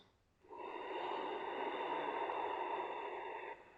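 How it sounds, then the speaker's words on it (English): A single long, slow, deep breath during seated chair yoga flows as a steady airy rush for about three seconds, close and soft, with no talk. "Lovely long slow breath."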